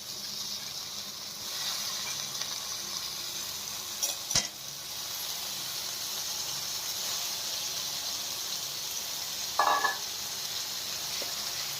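Parboiled cauliflower florets fry in a pan with a steady, even sizzle, stirred with occasional scrapes and a couple of sharp utensil clinks against the pan; no talking.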